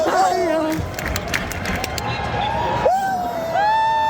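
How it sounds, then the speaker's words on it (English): A tournament crowd cheering for a player named Hayao, a loud roar of many voices with shouts and chanting, rising bursts near the end, close and continuous. "Like, just listen to this crowd."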